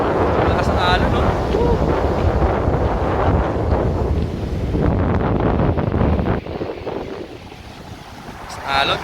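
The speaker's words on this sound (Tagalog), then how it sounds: "Lakas ng alon dito. Hindi pwedeng maligo dito." Strong ocean waves surge and wash against the shore at Malagundi Point in Lobo, Batangas, a loud, steady roar buffeted by heavy wind noise on the microphone, easing slightly toward the end.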